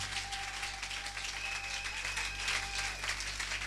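A church congregation applauds in praise of Jesus with steady, soft, continuous clapping, heard from a distance with faint music tones underneath.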